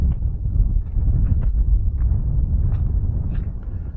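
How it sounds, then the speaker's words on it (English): Steady low rumbling wind beside the flooded Murray River buffeting the microphone, loud and continuous throughout, with no voices. "All right, well, it is windy."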